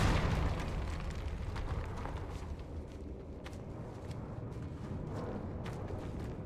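Confringo fire spell exploding in a video game: a loud burst at the start that decays into a long rumbling tail with scattered crackles.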